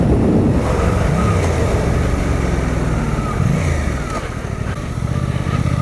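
A Suzuki GSX 800T motorcycle rides along a road with a steady, loud engine drone mixed with buffeting wind noise, the engine note rising and falling slightly as it travels.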